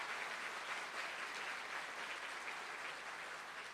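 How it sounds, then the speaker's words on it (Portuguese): A church congregation applauds together, a steady dense clapping that continues evenly throughout at moderate distance, with no one speaking over it. "Uma salva de palmas para ele, que Odete."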